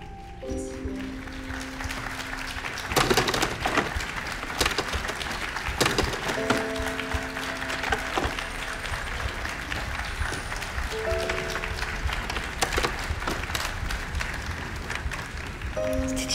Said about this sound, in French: je vous remercie tous d'applaudir Sybille Mercier de s'être déplacée